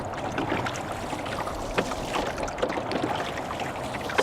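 A small wooden rowboat being rowed on open water: gentle continuous splashing and lapping, with soft knocks from oars at intervals, quiet and close, with no voices.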